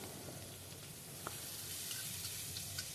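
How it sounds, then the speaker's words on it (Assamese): Onions sizzling in oil left over from frying fish, a steady bright hiss and crackle of frying with a few small pops, close and continuous with no talk. "সেয়া মাছ ভাজা তেলখিনিতে মই দি দিছোঁ পিঁয়াজ"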